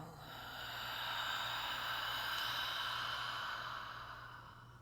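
A slow, deep exhale during a guided breathing session, a soft steady airy rush that swells and fades over a few seconds, close and quiet with no talking.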